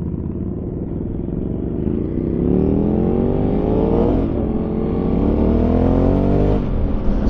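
Motorcycle with a stock exhaust and no plate yet, revved hard and held high, its engine note climbing and sustaining loud and close throughout with a brief dip near the end.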